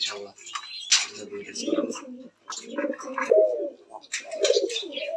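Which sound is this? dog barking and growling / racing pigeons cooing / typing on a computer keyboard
racing pigeons cooing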